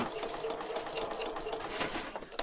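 Sewing machine running a short burst of zigzag stitches, a steady fast rhythmic whirring with a ticking needle pulse, close and fairly quiet, with no talking.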